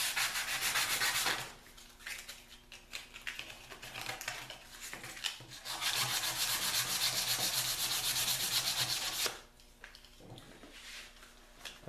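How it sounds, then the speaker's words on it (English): Hand sanding a wooden chakram to smooth ridges, close rhythmic rasping strokes in two long bursts separated by quieter scratching. "I'm going to go hand sand it a little bit just to get off some of these ridges."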